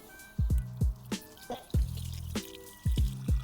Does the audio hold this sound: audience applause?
no